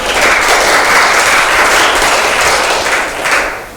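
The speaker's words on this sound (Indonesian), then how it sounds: "Beri tepuk tangannya dong temannya." Students in a classroom applaud a classmate with loud, dense clapping close by that fills the room for several seconds, then thins and fades at the end.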